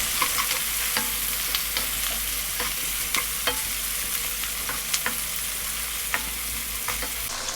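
Onions fry in a pan with a steady, close sizzling hiss, broken by frequent scraping clicks and knocks as a spoon stirs them.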